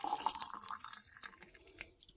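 Hot water trickles and drips into a glass jar, a faint, close, uneven splashing with small bright plinks throughout.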